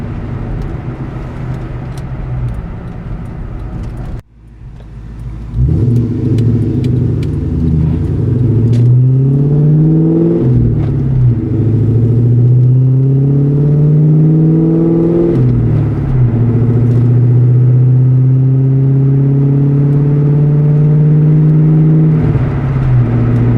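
A Ford Mustang GT V8 engine from a 1999–2004 New Edge car roars and revs up loudly at full throttle through several rising acceleration pulls, each climbing in pitch before dropping for the next gear.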